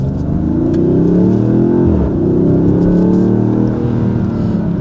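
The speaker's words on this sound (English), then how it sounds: "There's a little bit better exhaust clip for you." The exhaust of a 2026 Dodge Charger R/T Blacktop six-cylinder drones loudly and up close, revving up, dipping briefly at a shift, then climbing again in a steady throaty tone.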